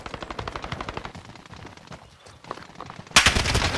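Automatic gunfire from a mounted gun in Call of Duty: Modern Warfare Payload mode pounds in rapid rhythmic bursts, then briefly eases off before a louder, harsher close burst erupts near the end.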